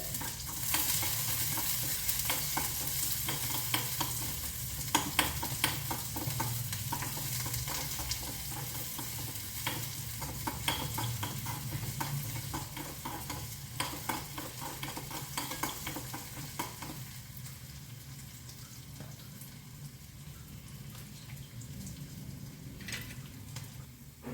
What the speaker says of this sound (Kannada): ಈರುಳ್ಳಿ ಹಾಕ್ತಾ ಇದ್ದೀನಿ ಈರುಳ್ಳಿ ಕೆಂಪಾಗೆ ಕಾಯಬೇಕು